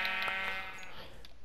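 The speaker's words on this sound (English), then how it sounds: "There's a sheep right here." A black-wooled sheep in Minecraft on PS4 bleats in a short, close, buzzy cry that fills the moment alone, with a few quick pulses toward the end.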